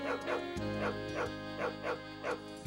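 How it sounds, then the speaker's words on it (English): A dog in the video game Wild Arms 3 barks about six times in an even rhythm, short yips set over steady game background music. "I can't pet the dog, but I can make the dog bark."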